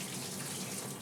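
Tap water runs in a steady, loud hiss into a container while measuring out water for mixing black-and-white film developer, a continuous splashing flow with no voices.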